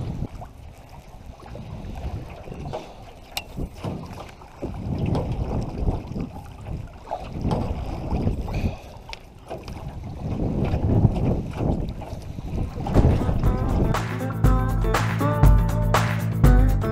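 Strong gusty wind buffets the microphone while fishing from a canoe on open water, rising and falling in roaring swells, then giving way near the end to a steady tonal hum.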